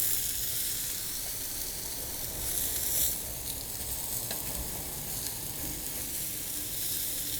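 Ahi tuna sears in a hot pan, giving a steady, loud sizzle and hiss that runs unbroken throughout with no talking.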